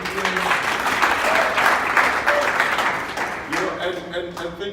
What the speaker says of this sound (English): I just want to give a round of applause to all our performers, all our speakers.